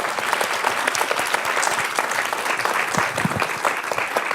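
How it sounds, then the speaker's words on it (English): A conference audience applauds a panel on women's leadership in transboundary water cooperation, dense steady clapping from a full room, close and sustained throughout. "Thank you as well to all the participants online, and to our amazing panel. A round of applause."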